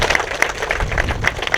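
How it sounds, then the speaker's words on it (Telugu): An audience at a rural gathering about a forest farming model claps together for a host, a dense patter of hand claps that stays fairly steady throughout. "చప్పట్లు కొట్టి."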